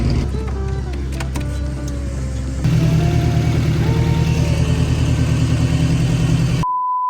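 BMW E46 M3 Compact gearbox running on the car, a steady mechanical whir and drone with a step up in loudness partway through, then cutting off abruptly near the end.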